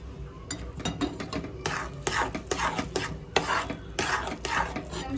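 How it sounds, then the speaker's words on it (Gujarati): Sweet potato shiro is stirred in a pan with a spoon that scrapes and clinks against the metal in quick repeated strokes, sounding close and busy, with a soft sizzle underneath. "હવે આપણે આને 2 મિનિટ માટે આપણે આવી રીતના મિક્સ કરતા રહીશું"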